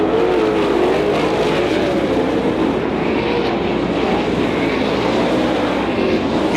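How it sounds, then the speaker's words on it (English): Sprint cars race around the dirt oval at Beaver Dam Raceway in an IRA Outlaw Sprint Series feature, a loud continuous engine roar with passing whines that rise and fall, heard from trackside. "here comes the 2W of Neitzel, running the middle groove coming out of 3 and 4"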